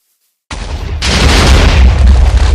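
A bomb blowing up in Minecraft's End dimension: silence broken by a sudden loud boom, then a heavier, rumbling blast half a second later that keeps roaring to the end.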